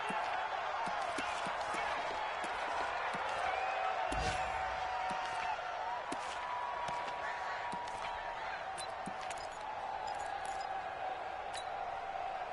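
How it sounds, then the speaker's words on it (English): Stadium crowd in a PlayStation 4 football video game building before a big third down, a steady roar with scattered claps, whoops and thuds, running continuously for over ten seconds. "The crowd getting into it as we come up on a big third down"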